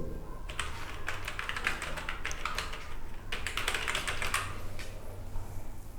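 Rapid clicking keystrokes on a computer keyboard as a web address is typed, a close, steady run of light taps with brief pauses between bursts.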